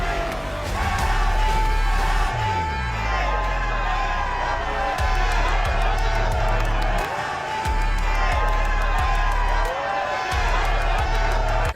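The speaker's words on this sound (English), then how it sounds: "everybody started cheering Natalie" A crowd waiting in a Bad Boys Houston audition line cheers and shouts for Natalie, loud and close, with overlapping voices yelling and whooping over a pulsing low background beat.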